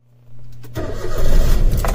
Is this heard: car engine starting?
yes